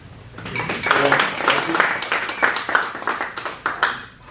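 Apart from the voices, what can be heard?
audience applause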